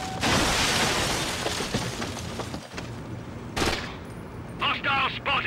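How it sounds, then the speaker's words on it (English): Explosions and rapid gunfire in the Rainbow Six: Lockdown video game, a dense crackling barrage with booming bursts, close and loud, with shouted voices mixed in. "Grenade out!"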